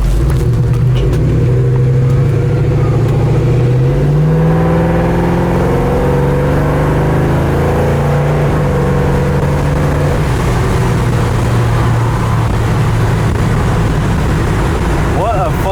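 A 1968 Chevrolet Chevelle SS 396 big-block V8 rumbles steadily from inside the car, low and throaty, rising in pitch as it accelerates, with a faint voice now and then.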